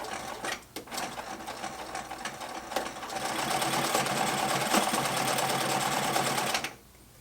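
A sewing machine stitches webbing with a side release buckle onto a homemade dry bag backpack. Close, loud continuous whirring runs for several seconds after a few short starts, then stops abruptly.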